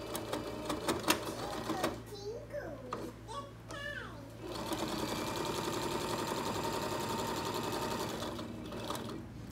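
A sewing machine runs a straight stitch on fabric for reusable period product shields. A voice is heard briefly at first, then the motor whirs in a steady, continuous run close by.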